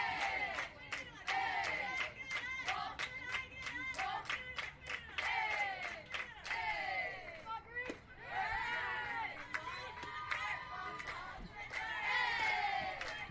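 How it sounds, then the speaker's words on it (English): Spectators cheering at a fastpitch softball game, a loud, continuous stretch of shouts, whoops and clapping from a nearby crowd, with voices calling out across the field. "You hear from the cheer"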